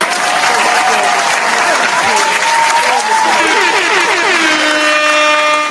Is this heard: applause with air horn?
yes